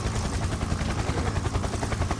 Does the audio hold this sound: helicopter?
yes